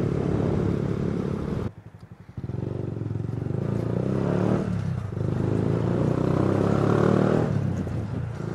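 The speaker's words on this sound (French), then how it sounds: "Alors on entend bien le pot libre dans une petite rue. ça résonne bien" A motorcycle with an open low-mount AliExpress exhaust revs loudly and steadily in a narrow street, its rough engine note echoing, with a brief dip in the noise near the two-second mark.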